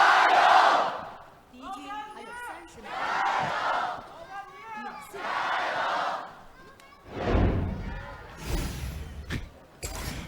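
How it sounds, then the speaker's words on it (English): Esports fans at an LPL League of Legends match between Royal Never Give Up and LGD chant in loud rhythmic waves, rising and falling several times, with a caster talking between the bursts. "We've loaded onto the Rift, and like we said, the chants begin again."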